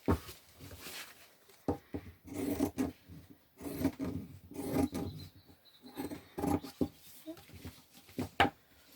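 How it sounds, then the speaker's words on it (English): Repeated crunchy snips and rasping of pinking shears cutting through fabric, in irregular bursts close by, with faint handling noises between cuts. "I am using pinking shears for this"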